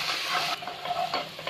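Ginger, garlic and green chilies fry in a pan, giving a close, bright sizzle that is stirred in short scraping pulses, with no speech.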